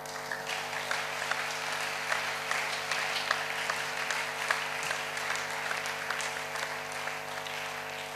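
A church congregation applauds and cheers in a dense, steady wash of clapping that runs unbroken throughout, loud and close, over a sustained musical drone.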